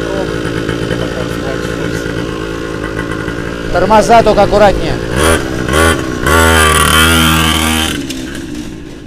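Petrol MAUGLI E4 49cc children's quad bike, small engine buzzing at idle before revving in sharp rising bursts, loud and close, with a voice speaking briefly over it.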